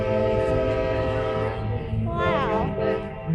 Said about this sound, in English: I just heard a train noise.